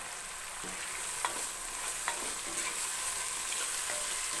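Tomatoes sizzle steadily in a hot pan, with a few scraping stirs of a utensil breaking through the hiss.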